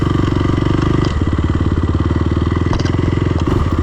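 A Yamaha YZF 450 dirt bike engine limps along near the finish line with no brakes, a loud, close, rough putter of rapid, uneven firing pulses that stumble and recover, with no voices.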